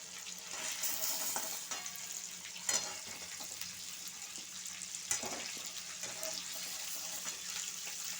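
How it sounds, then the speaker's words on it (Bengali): Chicken pieces for chicken chaap lightly frying in a pan, a steady close sizzle with hissing broadband crackle and a few brief clinks and stirring scrapes, no talk. "এইগুলো মাংসগুলো হালকা করে ভেজে নিই"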